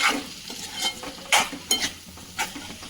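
A mixture with onion being stirred and fried in a pan: a steady sizzle broken by several scraping strokes of the spoon, close and fairly loud, with no talking.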